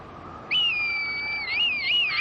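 A red kite calls in the Sierra y Cañones de Guara nature area, a clear, loud, drawn-out whistling cry that wavers and trills toward its end, heard alone over soft background hiss.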